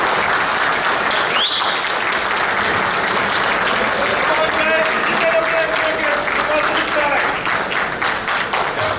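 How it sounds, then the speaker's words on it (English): A banquet hall crowd gives a standing ovation at an award banquet night, dense sustained clapping filling the room for several seconds, with a voice audible over it. "I've never walked in a room and received a standing ovation"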